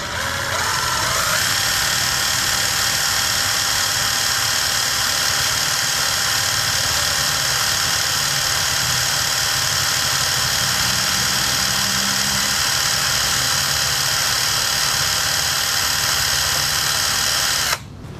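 Makita TD110D cordless impact driver runs continuously at speed, a loud, steady high-pitched motor whine with even buzzing held for the whole stretch before stopping abruptly at the end.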